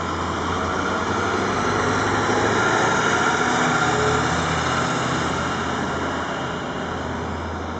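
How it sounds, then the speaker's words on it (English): A turbocharged diesel vehicle engine runs steadily nearby, a loud, constant rumbling drone with no breaks, heard alone without talk. "You hear that? That's a diesel motor. That is an efficient running vehicle."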